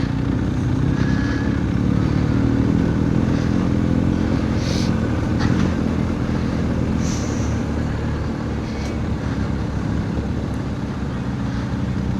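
A motorcycle ridden in second gear along a local trail near Marmelete in the Algarve. The engine hums loud and close throughout, a steady, unbroken drone with no speech.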